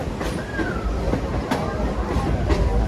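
The Lehigh Gorge scenic train rolls along its rails near Jim Thorpe, giving a continuous rumbling roar with rhythmic clicks and faint squeals, heard fairly close and loud with no talking.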